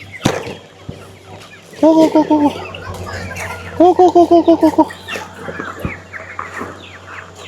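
Two-month-old chickens cluck close by in two quick bursts of repeated calls, with a person's voice speaking around them.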